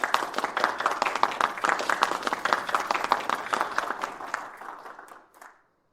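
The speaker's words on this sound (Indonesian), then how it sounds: "Mari beri tepuk tangan." An audience at a press event claps in a dense, lively burst that carries on for several seconds, thins out and stops abruptly, leaving silence.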